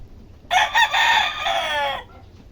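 A Gilmore Sweater bloodline gamefowl rooster lets out a single loud, close crow lasting about a second and a half, with quiet background before and after.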